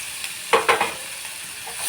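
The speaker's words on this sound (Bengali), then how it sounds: "এই যে থেতো করে রাখা চালতাটা আমি গরম তেলের মধ্যে দিয়ে দিলাম" Crushed elephant apple dropped into hot oil spiced with five-spice tempering, giving a few quick sizzling bursts over a steady soft crackle, close and moderately quiet.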